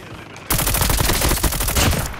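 Dense automatic gunfire in the mobile shooter game Call of Duty Mobile erupts suddenly and continues as a loud, close, rapid burst of shots with no talking over it.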